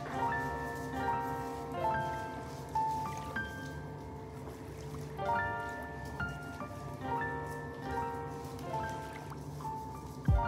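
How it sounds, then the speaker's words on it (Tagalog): Water splashes and drips as foam cleanser is rinsed off a face at a sink, soft repeated handfuls of liquid over a steady background hum, quiet and close. "Yung bula ay hilamos natin sa face natin."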